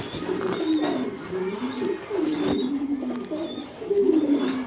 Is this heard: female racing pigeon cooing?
yes